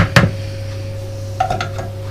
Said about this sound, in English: we're going to give it a little bit of a stir, just to mix it all in a bit